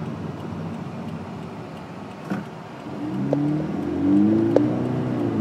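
A Scion FR-S sports car engine accelerating, heard from inside the cabin as a low, steady drone that swells in pitch and loudness toward the end, with faint clicks and no talking.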